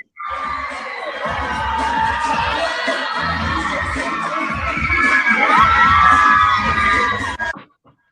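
A crowd of children scream and cheer at a surprise appearance at the NYPD Police Academy in Queens, a loud sustained chorus of high shouts and whoops lasting several seconds before cutting off abruptly.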